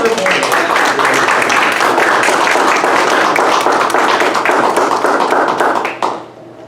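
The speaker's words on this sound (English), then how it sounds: "Let's give another round of applause here." A crowd claps steadily for several seconds at a graduation ceremony at an Air Force base in Nevada, dense and fairly close, before the applause stops abruptly.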